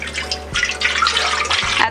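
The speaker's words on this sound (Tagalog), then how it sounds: "ibubuhos ko na po yung ating natira na tubig" Leftover water, nine cups, poured from a container into a large cooking pot on a stove, a steady splashing gush for about two seconds with slight pauses.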